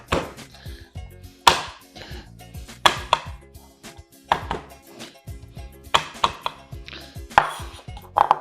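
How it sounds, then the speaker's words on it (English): A knife chops garlic on a cutting board in a home kitchen, a quick uneven series of sharp close taps and thuds with short pauses between bursts. "I'm just chopping my garlic."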